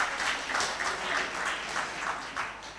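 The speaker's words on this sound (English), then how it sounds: "Can we clap for ourselves?" An audience at a film awards gala claps steadily, a dense, even wash of applause from a crowd at moderate distance, with no one speaking over it.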